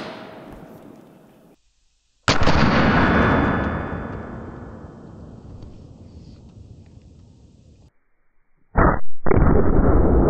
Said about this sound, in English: when I fire this round